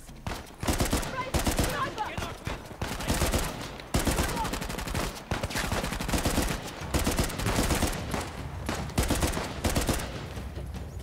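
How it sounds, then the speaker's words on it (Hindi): Automatic gunfire in Uncharted: The Lost Legacy, dense rapid bursts of shots continuing through the stretch with brief gaps, loud and close, with a voice talking intermittently over it. "क्या गन है, तुतुर तुतुर चल रही है"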